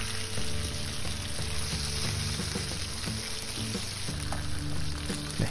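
Steady sizzling and crackling of fish frying in hot oil in a pan, close and continuous, with faint tonal hum beneath.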